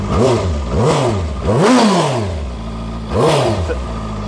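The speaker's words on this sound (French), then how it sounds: "Donne un petit coup d'accélérateur quand même qu'on puisse voir." A Benda LFC700 inline four-cylinder motorcycle engine revs up and settles back three times, loud and close, each blip a rising and falling whine.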